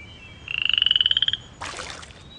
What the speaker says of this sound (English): There's a frog in the pond,